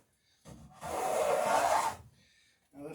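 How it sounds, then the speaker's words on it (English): A bevel is cut along a wooden plank for an 1890s-style cruising dinghy: a short soft scrape, then one sustained, close rasping stroke lasting about a second, followed by quiet. "I'm going to cut the same bevel on this side."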